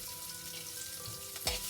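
Onion, ginger and garlic dropped into a hot pan for sambar, giving a steady soft sizzle with a brief louder burst of crackling near the end as ingredients hit the oil.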